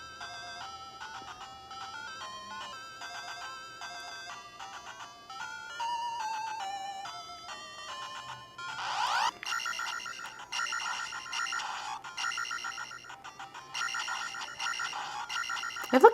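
Zelda Game & Watch handheld chiming out its electronic game music, bright beeping melody tones that give way to a denser, louder burst of synthesized game sound effects near the end.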